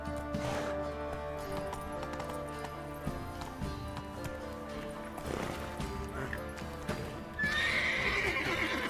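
A horse gallops in The Witcher 3 video game, with steady hoofbeats and a whinny, heard close and loud over game music and ambience, with a brief voice urging it on.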